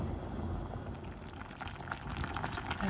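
A pot of mushroom curry with tamarind simmering, a steady soft bubbling and gurgling close by, fairly quiet and continuous with no voices.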